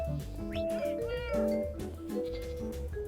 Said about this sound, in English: We got cats.